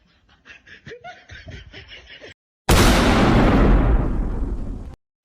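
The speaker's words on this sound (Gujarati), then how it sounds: "બહાર જઈને જોજે કોણ ફટાકડા ફોડો છે" Soft chuckling gives way to a sudden loud burst, like a firecracker going off, with a crackling roar that fades over two seconds.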